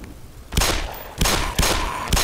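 Four sharp, loud gunshots fire in an uneven sequence in the first-person shooter Black Mesa, each a punchy burst with a short tail, separated by brief gaps and no talking.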